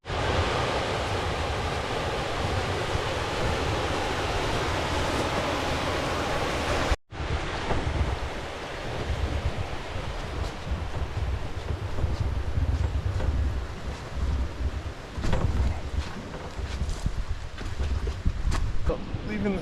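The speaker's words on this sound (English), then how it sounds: "it sounds like there's just some rapids here," Rapids and a small waterfall on the Little Nipissing River in Algonquin during spring ice-out, a steady broadband rush of water filling the scene, briefly cut mid-way and then continuing at a similar level.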